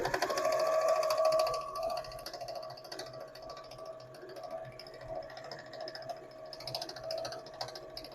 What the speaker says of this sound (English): I am going to start sewing and do a back stitch